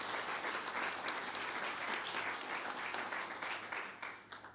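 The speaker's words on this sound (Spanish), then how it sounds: "Dele un aplauso al Padre Celestial" A church congregation applauds steadily and continuously, dense clapping filling the room and tapering slightly at the end.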